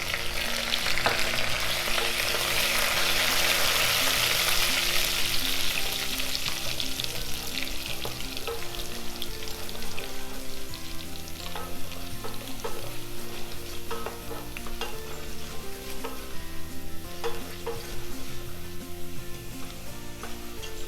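Curry leaves and chopped garlic fry in hot oil for a fish curry, a loud, steady sizzle and crackle that runs the whole time with faint stirring scrapes and no talk.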